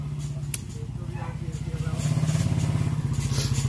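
A Honda XL 125 motorcycle idles and revs nearby with a steady, pulsing mid-pitched engine note that rises partway through, while a person talks over it.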